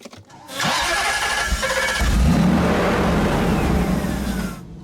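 A heavily modified Land Rover Defender engine cranks and catches, then revs up into a loud, sustained growl close by, holding high before easing slightly at the end; no one talks.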